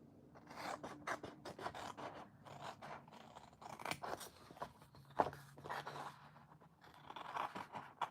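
Scissors snipping around a paper sticker for a monthly journal, a quiet close run of short crisp cuts and paper rustles with no talking.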